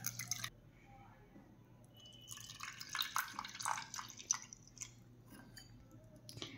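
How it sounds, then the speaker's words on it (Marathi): Water trickles and drips faintly in a short, uneven run over a low background hum as soaked rice is drained, for rice kheer. "10 मिनिटांनंतर आता आपण यामधलं पाणी काढून घेऊयात।"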